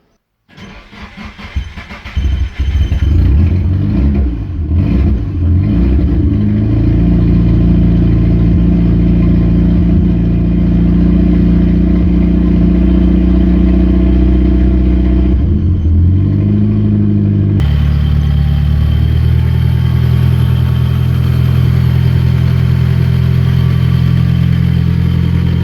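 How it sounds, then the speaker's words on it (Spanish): Nissan 200SX fitted with AliExpress fuel injectors cranks and starts, then idles loudly and steadily close by, with a rough uneven hum and a sudden shift in tone partway through; no talking. "Vamos a arrancar el coche y vamos a ver si al fin el gatito no pasa hambre."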